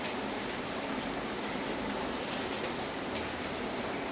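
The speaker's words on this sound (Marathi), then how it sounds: "पाऊस कमी झाला प आबाळ थोडं निर्वळला आहे" Light rain falls steadily as a soft, even hiss of drops with no break, fairly faint and without voices.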